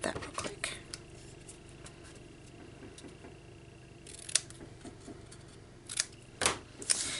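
Scissors snip paper for an Easter basket craft, with a few quick cuts at the start and a cluster of crisp snips near the end, close and moderately loud against a quiet room.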